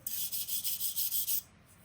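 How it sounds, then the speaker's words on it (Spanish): A wire brush scrubs rust from a metal pellet and wood stove frame in about eight quick, rhythmic rasping strokes up close, then stops abruptly. "la rasparemos con un cepillo de púas de alambre"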